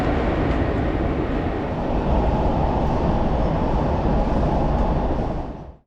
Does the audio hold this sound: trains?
yes